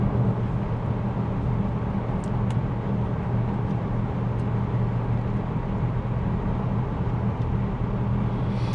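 A Range Rover Sport L494 cruising on the road while towing, its steady engine and road drone droning continuously and evenly at close range throughout, with no voices.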